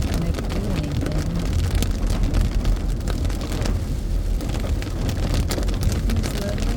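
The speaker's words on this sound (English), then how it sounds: "So today it's raining in Kentucky." Steady rain falls on a back road in Kentucky, a dense, continuous patter close and fairly loud throughout, with a low vehicle rumble underneath.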